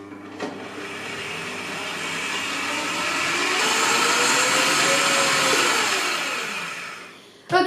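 A stand mixer whisks génoise sponge batter with a continuous whirring hum that slowly swells and then fades, alone with no talking, ending with a brief clatter.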